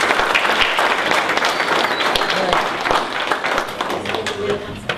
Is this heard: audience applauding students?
yes